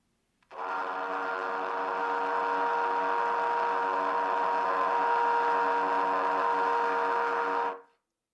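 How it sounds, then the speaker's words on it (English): A sustained, buzzy trumpet split tone with rough, noisy, unstable high harmonics holds steady for several seconds before cutting off, played alone. "the crunchy, noisy, unstable sound of the higher split tones"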